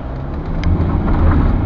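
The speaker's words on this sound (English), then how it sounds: "we have a 0 to 60 test coming up" A 2005 Mercedes E220 CDi Avantgarde 2.2 diesel pulling away on a damp, wet road, a low engine rumble building steadily and growing louder as it accelerates.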